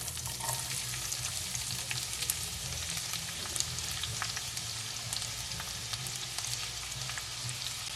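Onions frying in a reheated pan, a loud, steady close sizzle with dense crackling and occasional sharper pops, no voices.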